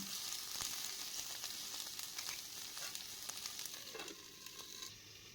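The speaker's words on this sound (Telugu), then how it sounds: "ఇందులో కాలీఫ్లవర్ ముక్కలు వేసి ఒక రెండు మూడు నిమిషాల పాటు ఫ్రై చేసుకోవాలి" Cauliflower pieces fry in a pan with cumin, giving a steady, close crackling sizzle that continues without pause.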